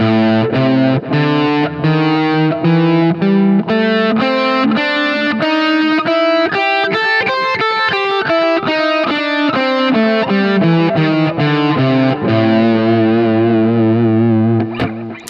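Distorted electric guitar plays a run of single notes up and down a blues scale, steady and loud, ending on a sustained bent note.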